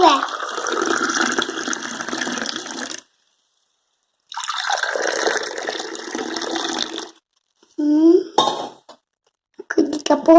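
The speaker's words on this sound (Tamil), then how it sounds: "இப்போ டம்ளரில் ஊற்றிடலாங்க" Freshly blended amla gooseberry juice is poured into a tumbler in two steady streams separated by a pause, followed by brief vessel clinks and a voice speaking.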